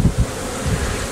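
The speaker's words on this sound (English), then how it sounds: "There's a lot of bees here." Dense buzzing of many bees stirred up from a large hive being shaken inside a pop-up camper, a close low droning swarm with rumbling bursts and no talk.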